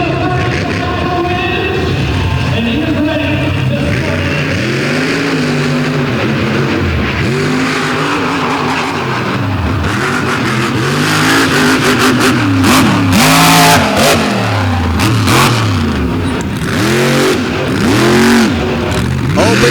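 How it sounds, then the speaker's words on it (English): A big-engined outlaw monster truck roars at a drag race launch, loud and continuous with repeated revving swells and rising, falling engine tones over about twenty seconds. "that big Vance engine should get him down the track"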